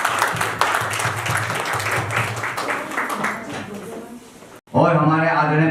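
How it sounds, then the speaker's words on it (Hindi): Loud applause from the audience at an NGO charity event fills the first few seconds, then fades and gives way to someone speaking. "तो मैं चाहूंगा एक बार और जोरदार तालियां उनके लिए हो जाए"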